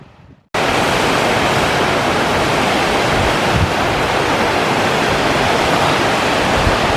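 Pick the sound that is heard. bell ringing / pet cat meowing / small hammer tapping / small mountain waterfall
small mountain waterfall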